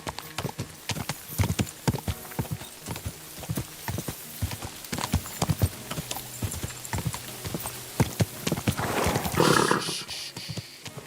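Horse hooves clip-clopping at a steady rapid gait in the video game Kingdom Come: Deliverance II, close and clear with a rhythmic beat that slows and blurs into wind and rain-like noise near the end.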